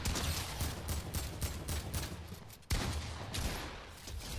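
Rapid bursts of gunfire from the Fortnite video game crackle in quick succession, loud and close, with a sharp burst near the middle and continued shots after.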